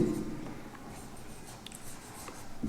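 A marker or chalk scratches across a board in a classroom-style grammar lesson, faint short strokes sounding quietly on their own.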